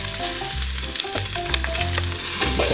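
Onions sizzle and crackle steadily in a hot pan, a dense frying hiss with occasional pops and stirring scrapes, no voices.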